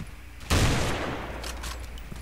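PC video game gunfire played with a controller: a loud burst of rapid shots erupts after a quiet moment, then trails off into a rumbling echo.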